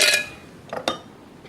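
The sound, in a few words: ice being put into a blender for mango lassi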